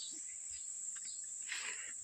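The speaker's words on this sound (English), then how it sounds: "There's bees everywhere on this car." Bees swarming around an 87 Toyota Supra under a Mopar 360 swap, their buzzing steady and close, with a persistent high-pitched insect whine throughout and a brief louder swell near the end.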